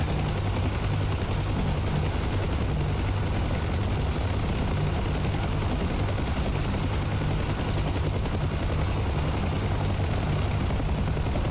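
A UH-1 Huey helicopter flies in the DCS flight simulator, its rotor and turbine making a loud, constant, dense roar with rapid blade chop that runs unbroken throughout, with no voices.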